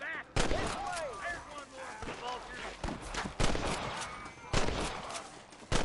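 Sharp gunshots in Red Dead Redemption crack out in an irregular string of single close reports, with voices and background game sounds between the shots.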